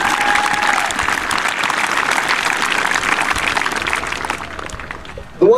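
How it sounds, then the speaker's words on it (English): A crowd claps steadily for several seconds in sustained applause for youth baseball all-stars, dense and even, before it fades out. "let's give them a round of applause"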